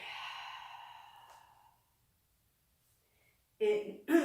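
Long breathy exhale during chair yoga, a soft, close sigh fading out over about a second and a half, followed by silence and then two short breathy sounds.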